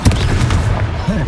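Fiery Confringo spell blasts in the Hogwarts Legacy video game, a loud burst of booming impacts over a continuous rumble of battle noise in a short, dense clip.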